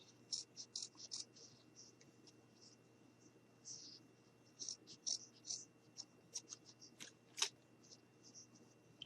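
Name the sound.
cutting material with scissors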